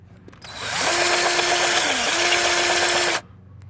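A power drill spins up drilling into a broken exhaust bolt on a 6.0 Powerstroke, whines steadily for a few seconds with a brief dip in pitch, then stops abruptly; no talking.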